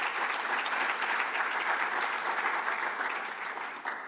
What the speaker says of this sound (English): let's just give a round of applause for that